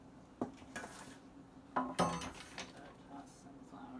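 A metal baking sheet is handled in a kitchen while making maple shortbread, giving a few close clanks and rattles with a cluster of louder metallic knocks midway, then quieter shuffling.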